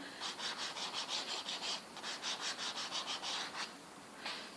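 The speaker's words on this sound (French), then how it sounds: "je vais même mettre un bleu un petit peu plus foncé dans le haut, un petit peu violet" Soft pastel is stroked across paper in blue and violet tones, making a quick, even run of close, dry scratchy rubs, about a dozen strokes in a steady rhythm, then a short pause and one final stroke.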